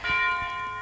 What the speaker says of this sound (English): the wedding bells.